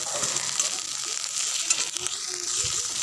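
Garlic, onion and ginger paste fry in oil for an egg curry, making a steady close sizzle with faint stirring scrapes and no talk.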